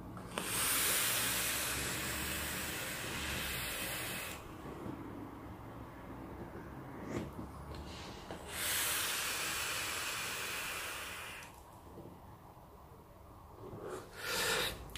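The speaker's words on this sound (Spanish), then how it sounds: "nada mal funciona el cacharro este en cuanto a producción de vapor" Galatek RDA rebuildable dripping atomizer by Asmodus, fitted with a Sony 21700 battery in a mechanical mod, gives loud, sustained airy hisses of vapor production in two long draws with brief pauses between them.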